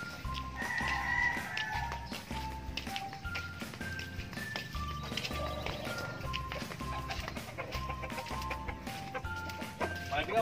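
Free-range chickens on a small backyard farm cluck and call in soft, scattered bursts, with a rooster-like crow early on, over a steady low background hum.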